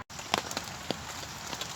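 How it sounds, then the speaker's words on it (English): Rain falls at a wet wild campsite, a soft, even patter with a few sharper drops hitting a surface close by, quiet and steady. "Anyway, it's raining."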